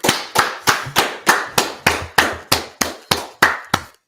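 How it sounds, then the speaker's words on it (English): A group claps in a slow, even rhythm of about a dozen sharp, loud claps at a meeting, with no voices over them. "let's clap it up"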